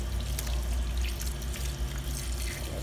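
Water runs steadily from a sensor-activated sink faucet, a soft continuous stream with faint splashing in the basin and no talking.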